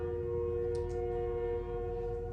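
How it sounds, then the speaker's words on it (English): A distant train sounds a steady, sustained tone that carries faintly and evenly through a quiet room for a couple of seconds, with no talking. "Is that a train?"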